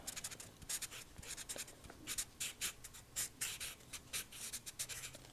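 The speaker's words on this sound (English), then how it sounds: "I'm just going to take a second to write all the measurements down" A pen scratches across paper in short, uneven bursts, writing down body measurements close up in a quiet setting, with soft strokes and pauses between words.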